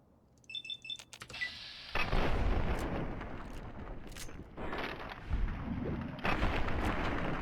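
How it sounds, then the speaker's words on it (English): Shotgun blasts and combat noise in Fallout 3 fill a swamp fight against ghouls, with loud sustained bursts and crackling reports following a few sharp early shots. "Alright, now who's shooting me now?"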